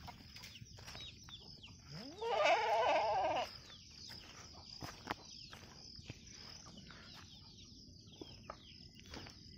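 Goats (three bucks kept in a farm shed) let out a single loud, close bleat lasting about a second, followed by light shuffling footsteps and faint farmyard clucks.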